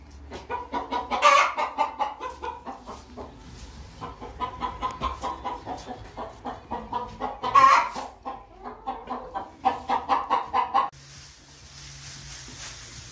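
Chickens cluck in a henhouse that has just been laid with fresh straw, a close flock giving repeated rhythmic clucks with a few louder squawks, before a low hum takes over near the end.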